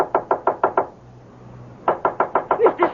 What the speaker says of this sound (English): Oh, knock on it, knock.